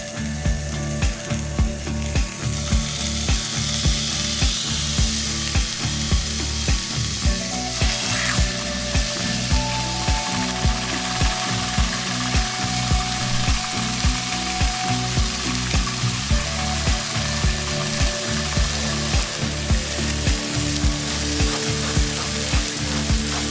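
Beef ribs and chuck roast sear in canola oil in two skillets, giving a loud, steady sizzle and crackle throughout, with a regular ticking or clicking underneath.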